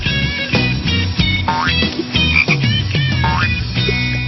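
Frogs croak near a pond in a loud, close chorus of repeated throaty calls with some rising chirps, overlapping irregularly throughout without any talking.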